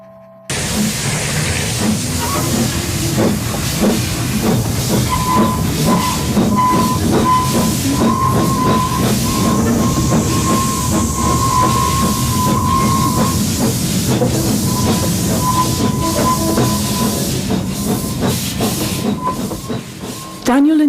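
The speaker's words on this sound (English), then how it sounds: "They're going to inject some fresh steam sounds into the old pipe network" Hissing steam sounds injected into an old pipe network as a sound art project, a loud continuous rushing hiss with a sustained whistle-like tone through the middle and faint rhythmic clatter, lasting about twenty seconds.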